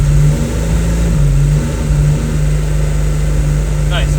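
A turbo-converted BMW E28 engine runs on a dyno, its steady loud drone held at constant revs in fourth gear, close and unbroken throughout, with people talking beneath it.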